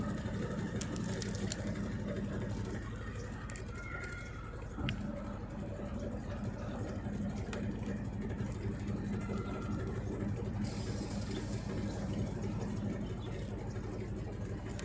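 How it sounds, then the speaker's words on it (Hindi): A Godrej 6.2 kg top-load fully automatic washing machine spins its drum, a steady, close mechanical whir and rumble that continues evenly throughout, with small clicks and rattles along the way. "जब स्पिन होता है तब इसका साउंड कैसा रहता है"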